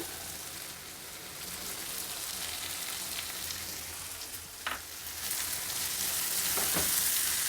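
Coriander leaves and grated coconut fry in a hot pan for chitranna, a steady close sizzle with brief scraping stirs and a short clatter of utensils.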